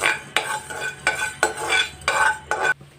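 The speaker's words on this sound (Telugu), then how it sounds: "ముందుగా మనం దీనిలో స్టార్ట్ 2 స్పూన్ల ధనియాలు వేసుకున్నాము. ఇది లైట్గా ఫ్రై చేసుకోవాలి." Coriander seeds being lightly fried in a pan and stirred with a metal spoon, giving a series of about seven sharp scraping strokes in an uneven rhythm over a faint sizzle, close and without talk.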